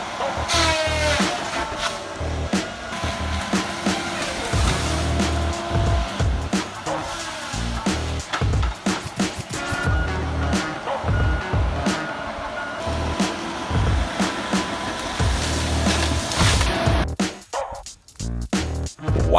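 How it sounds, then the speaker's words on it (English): A Tiger Cat 5702 HOTW harvester felling large hardwood and softwood trees, its heavy engine and cutting noise running loud and dense throughout, with a drop near the end before the roar resumes. "the Tiger Cat 5702 HOTW, a machine capable of felling the largest hardwood and softwood trees with incredible"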